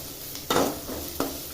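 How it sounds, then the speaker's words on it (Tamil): Finely chopped onions sauté in a hot pan for Kerala kadalai curry, a steady close sizzle broken by two sharp stirring scrapes, with no voices. "பொடி பொடியாக நறுக்கிய வெங்காயம் எல்லாம் சேர்த்து நல்லா வதக்கிக்கணும்."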